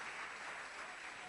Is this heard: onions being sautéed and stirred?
no